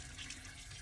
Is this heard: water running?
yes